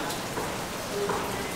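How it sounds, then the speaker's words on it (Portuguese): Steady rain falling on a morning at a beach holiday spot in Bahia, Brazil, a soft continuous patter filling the brief moment with no one speaking. "Bom dia com chuva, gente, vocês acreditam?"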